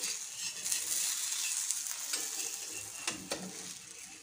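Methi chilla frying in a pan with oil added around the edges, a steady close sizzle with a few light scraping clicks of a utensil and no talking.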